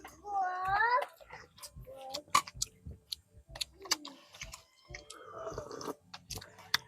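Cats meow near a countryside hut during a meal, with short rising cries early on, then scattered clicks, clinks and chewing sounds at close range.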